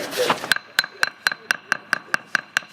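During limestone lintel restoration, a hammer handle taps on limestone, ten sharp, evenly spaced clinks at a brisk steady rhythm, close and clear, right after a brief burst of voice.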